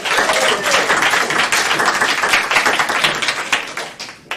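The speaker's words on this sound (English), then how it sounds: "How about a big round of applause for Joshua Plank, all right?" Steady applause from a crowd, dense rapid clapping that holds for several seconds before tapering off.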